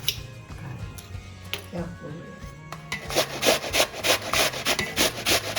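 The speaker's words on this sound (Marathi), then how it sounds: "काकडी जी आहे ना ती किसून घेऊया व्यवस्थित किस व्हायला पाहिजे" A cucumber is grated for a Konkani recipe, giving a steady series of loud rasping strokes that build in the second half, with a speaking voice and faint kitchen sounds earlier.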